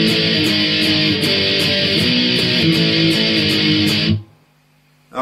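Electric guitar, heavily distorted, chugs through a song's pre-chorus with dense palm-driven strumming and regular accents, loud and close, then cuts off abruptly into near silence before a brief sound at the end.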